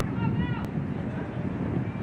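Wind blows steadily on a rainy night at Everett Memorial Stadium during a women's soccer match, a constant broadband rush with a brief sharp knock partway through.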